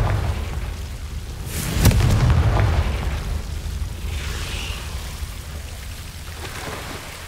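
A Confringo fire spell blasts in Hogwarts Legacy, a sharp burst near the two-second mark that rolls into a dense, rumbling crackle and then settles into a steady low wash of ambient noise, with no voices.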